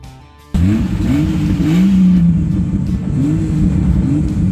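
An engine bursts in suddenly and roars loudly nearby during a turbo warm-up, revving up and down in repeated rising and falling sweeps with a steady growl underneath.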